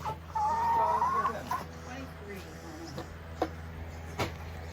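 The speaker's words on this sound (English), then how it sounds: "Nice looking chickens." Chickens cluck and call nearby, a few rising squawks at first, then scattered softer clucks and sharp knocks against a quiet background hum.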